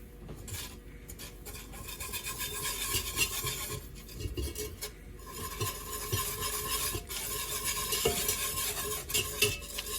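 Butter and flour roux being stirred in a pan for a truffle mac and cheese sauce, with continuous scraping strokes and a soft underlying sizzle, close and steady with no talking.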